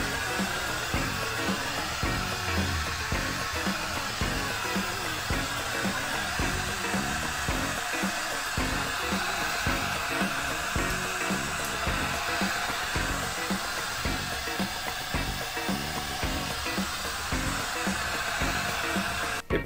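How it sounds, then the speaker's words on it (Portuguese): Air rushing from the air assist hose of a Zbaitu 30 W S60 laser engraver, a steady, continuous blowing hiss with a faint pulsing hum, alone with no talk. "Apesar de estar saindo o ar aqui, ele perde um pouco devido às curvas, mas está saindo aqui."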